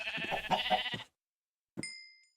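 A sheep bleats in a video game, a wavering close call lasting about a second, then a pause and a single bright chime that fades out.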